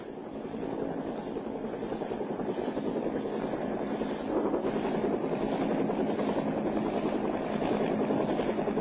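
A Huey UH-1 military helicopter's rotor thumps steadily and loudly, a constant chopping drone that holds strong for the whole stretch.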